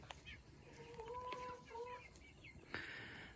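Chickens on a farm cluck softly, with short fowl calls and a brief tonal call in the middle over quiet outdoor background noise.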